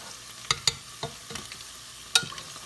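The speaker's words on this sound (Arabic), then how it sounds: "ودرك راني نقلب في الدجاج نتاعي." Chicken pieces being stirred and turned in a frying pan for a Chinese-style orange sauce chicken, with sharp scraping clacks of the utensil against the pan over a low sizzle, roughly six distinct strokes at close range.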